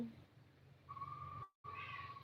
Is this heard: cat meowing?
yes